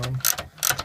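A ratchet tightening 10 mm bolts on a Ford Explorer 4.0L radiator, two quick bursts of clicking strokes, close and clear, with no talk.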